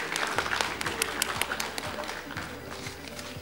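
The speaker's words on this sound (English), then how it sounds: "Can you all give a round of applause to them?" Audience at a youth leadership forum clapping for a group, scattered crisp claps over a soft, busy background with low thuds and murmuring, fairly faint and uneven.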